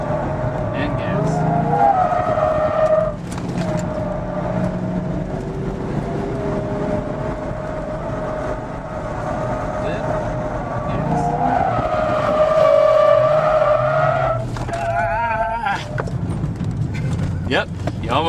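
A car corners on a clockwise skidpad, its tires squealing and skidding in long sustained wails over a droning engine, with the pitch rising and falling as the throttle changes and people talking over it.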